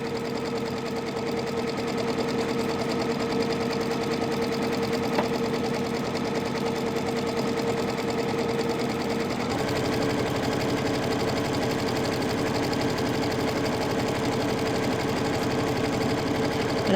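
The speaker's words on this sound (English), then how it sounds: "just going to start sewing. And I'm just following that line." A sewing machine stitches a Halloween treat bag with white thread, a steady rapid mechanical whir that runs continuously and close up, shifting slightly in pitch partway through as the speed changes.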